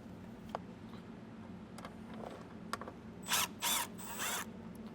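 Power driver whirring in three short bursts as a Phillips screw is backed out during a Redarc Tow-Pro Liberty brake controller install in a 2019 Subaru, preceded by faint clicks and handling noises.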